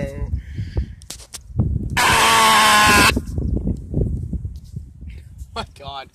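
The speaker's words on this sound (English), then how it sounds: "My god, sorry for the wind." A loud, rough gust of wind buffets the microphone for about a second. Talking and shuffling noises come before and after it.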